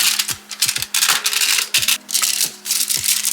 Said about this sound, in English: I have taken a handful of garlic. I just have to slice them.